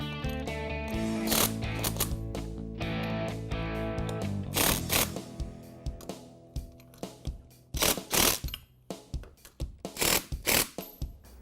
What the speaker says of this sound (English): Now we can go ahead and tighten these up using the 3/4 socket.